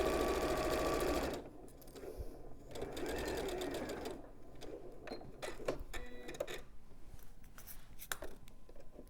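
A sewing machine stitches fabric, with a loud continuous whir at first, then rapid mechanical ticking and clattering bursts of stitches close by, some quieter stretches between.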